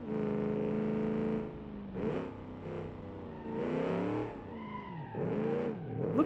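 Tires squeal and skid under the handbrake on a wobbly, open-differential car in a video game, several drawn-out screeching bursts rising and falling over engine noise, close and fairly loud.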